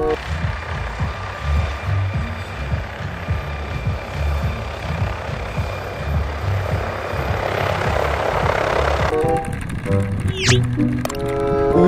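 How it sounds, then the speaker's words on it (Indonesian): A toy helicopter makes a rapid, fluttering rotor chop that runs continuously and grows busier toward the end, with electronic beeps joining in near the close. "ini kan helikopter"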